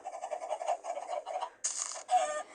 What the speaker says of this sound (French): on va mettre les poulets